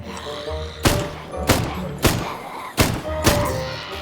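Five heavy, booming explosions in the game Zelter burst out roughly every half second over a low background of game sound, each a sharp thud with a short rumbling tail.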